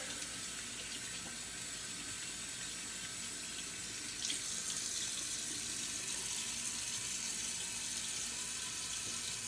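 Tap water runs steadily into a sink while a shaving brush is rinsed, a continuous close hiss and splash that grows slightly louder partway through, with no talking.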